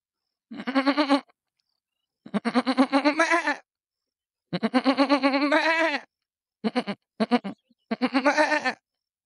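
A voice imitates a goat giving birth to a kid, producing a series of strained, quavering bleats in separate bursts with short silences between them, close and clear with nothing else heard.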